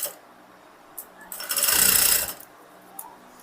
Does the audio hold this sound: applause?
no